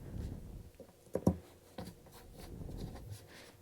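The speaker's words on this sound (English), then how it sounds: "I'm just gonna snip it off" Scissors snip through crochet yarn tassels in a few quiet, close cuts, a sharp double snip standing out amid soft rustling handling noise.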